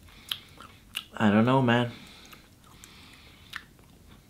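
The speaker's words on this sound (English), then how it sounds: "I like how it's crunchy, at least." Crisp crunches from biting into a hollow Marabou Oreo chocolate Easter egg: a few sharp, close snaps spread across the moment, with a short spoken remark in the middle.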